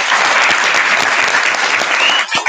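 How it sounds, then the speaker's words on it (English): An audience at a time management masterclass claps after a round of pitches, a loud burst of dense applause that tapers off slightly at the end. "Give them another big round of applause."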